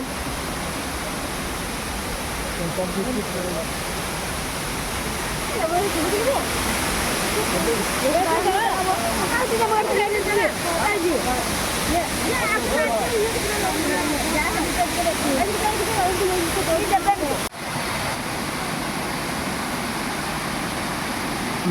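Water pours continuously at the Bamni Falls waterfall in Purulia, a loud, even rushing hiss filling the whole stretch while someone speaks briefly over it.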